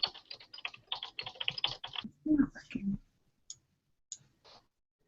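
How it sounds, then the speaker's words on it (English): Rapid keystrokes on a computer keyboard as an email address is typed, a dense burst of close clicks for about two seconds, then a few spaced taps amid murmured speech and quiet pauses. "let me type my email in the chat box"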